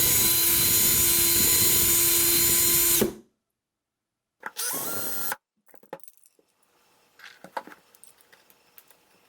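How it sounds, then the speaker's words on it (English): A power drill grinds the heads off rivets on a diecast Dinky Ford sedan, a loud steady whine for about three seconds, then a shorter burst, followed by faint scattered clicks and taps of small metal parts. "I was being very cautious about drilling the heads off the rivets"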